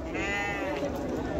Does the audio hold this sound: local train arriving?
no